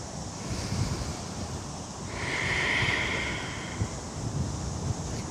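Ocean waves and gusting wind at an outdoor yoga session, a steady broad wash of surf with wind buffeting the microphone, swelling gently midway, with no talking.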